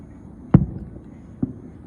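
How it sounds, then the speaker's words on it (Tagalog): Two separate booms of summer fireworks in Hitachi City, Ibaraki, Japan, arrive about a second apart over a quiet outdoor background, each a short, fairly distant thump. "ayan summer kasi pag summer ganyan may fireworks."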